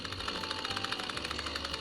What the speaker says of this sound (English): Sorry, my ringtone.